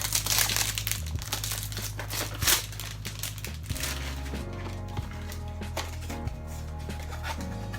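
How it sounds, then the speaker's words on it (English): Cellophane wrapping is crinkled and peeled off an Angel Deep Leather fragrance box, close and continuous crackling and rustling with a few sharper tearing snaps, over a low steady background hum. "I'm going to go ahead and get the cellophane off of the Deep Leather."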